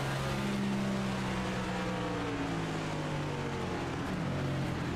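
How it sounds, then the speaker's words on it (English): A race car at Watkins Glen International screams past at high speed, its loud steady engine drone sliding down in pitch as it passes close, with other engine noise layered around it and no talk. "That just scares the pants off of you too when that car flies by at that speed."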